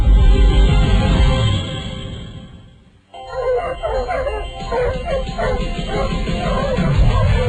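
Barking and yipping dogs used as a sound effect in a radio advert for Fresno Grizzlies minor-league baseball hot dog night; loud, busy barks run throughout, dipping briefly before surging back.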